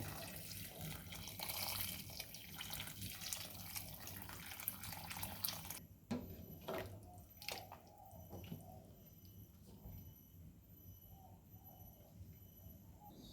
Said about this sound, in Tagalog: Lalagyan pa natin ng tubig.